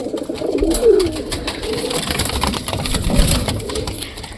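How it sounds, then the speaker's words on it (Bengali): A Chotial pigeon coos in short soft calls at close range over a steady background hum, with a low engine-like drone and occasional clatter. "ওই দেখো চটিয়াল ডাক শুরু করে দিয়েছে"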